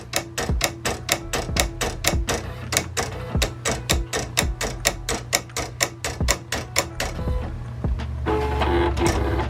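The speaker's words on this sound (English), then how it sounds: "just let the vinyl cutter do its thing" A Silhouette Cameo 3 vinyl cutter cutting heat transfer vinyl, a loud steady run of rapid mechanical ticks and motor whirs repeating in even rhythm, shifting to a continuous hum near the end, no talking.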